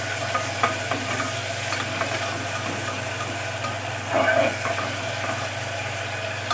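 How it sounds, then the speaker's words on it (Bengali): Spices frying in hot oil in a pan, a steady soft sizzle with occasional stirring scrapes and a brief louder burst of activity near the end, continuous and close. "তেল গরম হয়ে গেলে সব মশলা দিয়ে দেব, দিয়ে একটু এটাকে ভেজে নিতে হবে।"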